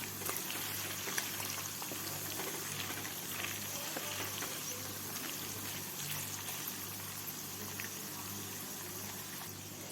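Mace and anise seeds sizzle in hot frying oil for chilli-garlic noodles, a steady, dense crackle holding at constant loudness throughout with a low hum underneath and no talking.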